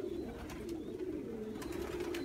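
Pigeons coo softly and repeatedly close by on a rainy day, their low, rolling calls over a faint hiss of rain, with no talk.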